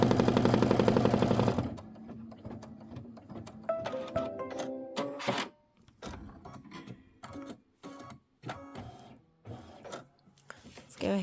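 An embroidery sewing machine stitches a roof tack-down line for a holiday home tote project, giving rapid bursts of mechanical needle chatter broken by short pauses, with a loud tonal passage at the very start.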